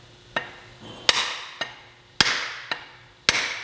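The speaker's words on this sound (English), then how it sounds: "I'm going to hammer a little bit more." An axe head is hammered onto its wooden handle in six sharp, ringing blows at an uneven pace, alternating loud and softer strikes, close by with no talk.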